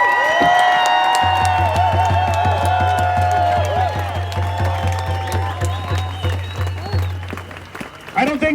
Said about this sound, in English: give a big round of applause to everybody who came out here today to speak